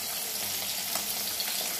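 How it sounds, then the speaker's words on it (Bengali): Fish fries in a pan at home, a steady broadband sizzle with a few faint pops and no talking, continuous and close. "এই যে মাছ ভাজছি"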